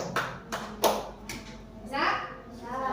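Children doing a rhythmic cheer clap in a classroom, a few sharp hand claps spaced apart mixed with young voices calling out.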